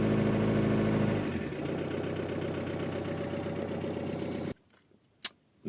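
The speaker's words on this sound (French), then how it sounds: "j'étais à 1500 tours minute au ralenti" Car engine idling at 1500 rpm in a garage while the exhaust smokes heavily, a steady close rumbling drone that drops slightly in pitch after a second and then cuts off, leaving near silence with one faint knock.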